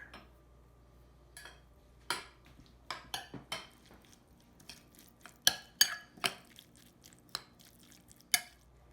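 Spicy tuna is mixed with toasted sesame oil in a bowl: sparse, quiet clicks and wet scrapes of a utensil against the bowl come in irregular bursts over near silence.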